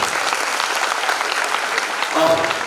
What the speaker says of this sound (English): Guys, a clap.